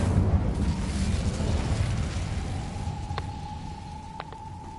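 A fiery Incendio spell from Hogwarts Legacy bursts with a loud roaring whoosh that fades into a crackling rumble, followed by a couple of sharp clicks or pops.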